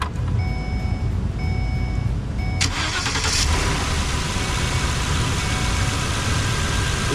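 An engine cranks and catches partway through, then keeps running steadily and loudly after a leaking fuel injector has its screw loosened during repairs.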